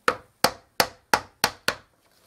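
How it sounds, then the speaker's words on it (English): A light hammer taps a wood block held against a pin to loosen it, six crisp evenly spaced knocks at close range, each one decaying quickly into silence. "block of wood, and a light hammer, and I just want to loosen that pin"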